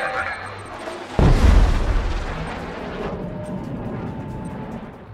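A deep, powerful sonic boom from GDI fighter planes in Command and Conquer hits suddenly and loudly, then rolls off in a long, fading rumble.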